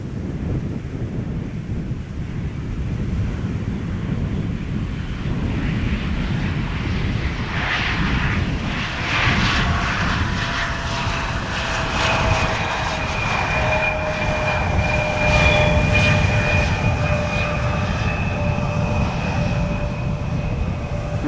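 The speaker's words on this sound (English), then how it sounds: "landing here is KLM flight 1762, arriving from Bremen" A KLM jet on flight 1762 from Bremen lands at Amsterdam Schiphol: a loud, continuous engine roar with whining tones rising through the middle and peaking late, heard alone without talk.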